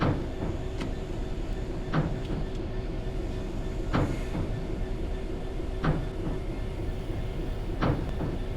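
A freight train rolls past in a train simulator game, a DB Cargo working near Peak Forest. Wheels click over rail joints about every two seconds over a steady mechanical rumble.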